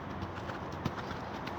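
Hooves of a five-year-old mare clip-clop steadily in an arena, an even rhythm of close, moderately loud footfalls with one slightly heavier strike partway through.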